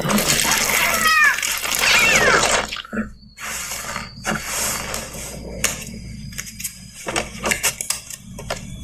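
A cat meows in an animated short, with a couple of rising cries near the start over a busy, wet, dripping backdrop, followed by scattered clicks and shuffling sounds.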